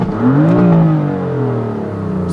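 A 2016 BMW M3 with its S55 engine, DCT gearbox, mid-pipe and tune, revved in neutral: a loud, close, steady engine note that climbs in one rise and then eases back down, with no talking.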